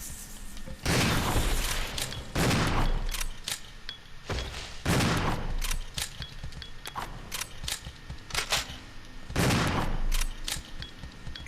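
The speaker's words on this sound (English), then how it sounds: "I feel like I'm using a lot of grenades." Grenades and gunfire boom repeatedly in Resident Evil 0, with loud, heavy blasts arriving every second or two and scattered sharper shots between them, all close and unaccompanied by voices.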